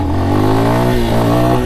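A Lifan X-Pect enduro motorcycle engine revs loudly up close, its steady humming drone rising slightly in pitch as the throttle opens.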